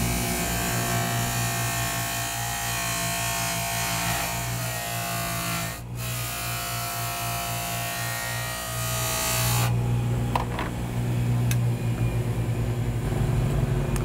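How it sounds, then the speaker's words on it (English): A broken grinding wheel facing off a polishing wheel on a buffing machine gives a steady, loud motor whine with abrasive grinding noise that shifts in tone partway through, with no talking. "I'm using a broken grinding wheel to face off this wheel."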